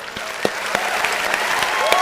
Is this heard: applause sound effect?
yes